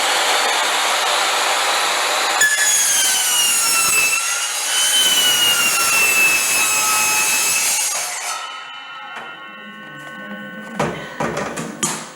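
A power saw whines through oak for several seconds, a loud sustained grinding tone, then winds down into quieter clattering and knocks.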